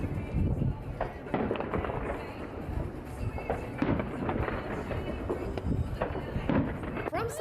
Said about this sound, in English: fireworks lit up the night sky in a spectacular display visible for miles